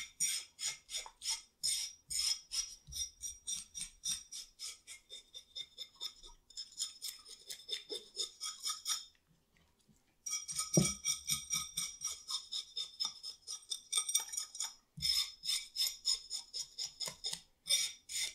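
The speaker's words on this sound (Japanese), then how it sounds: "包丁を使って鱗とぬめりを取っていきます。" Rapid, rhythmic scraping of a kitchen knife across a mackerel's skin to remove scales and slime, a steady series of crisp rasping strokes with short pauses between bursts.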